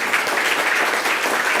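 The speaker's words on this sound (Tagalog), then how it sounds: "Let's give the Lord a clap of praise. Come on, clap your hands to the Lord." A church congregation claps hands in praise to the Lord, a dense continuous wash of many hands at close range, steady and loud throughout with no distinct individual claps.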